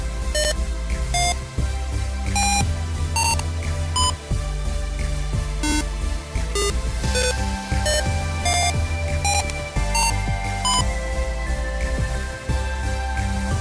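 Piezo buzzer tones from a simulated Arduino Uno piano in Tinkercad, a steady sequence of short electronic beeps changing pitch step by step, played alone with no voices.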